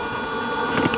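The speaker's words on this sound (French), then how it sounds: "Et on entend bien le ventilo qui tourne." A camper van toilet's ventilation fan runs with a steady, even whir and hum for the whole second, close and fairly loud.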